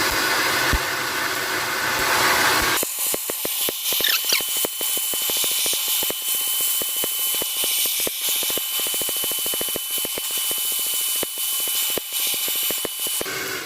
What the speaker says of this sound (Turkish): güçlü bir e, saç kurutma makinesiyle destek alacağız